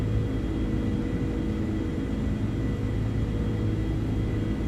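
Steady, broad engine rumble and whir of an iniBuilds Airbus A330-200 climbing out in a flight simulator, a continuous even drone with no talking over it.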